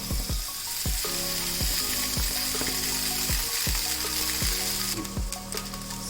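Sevai rice noodles fry in a pan with a constant soft sizzle, broken by a regular series of light scraping knocks from stirring, close and moderately quiet.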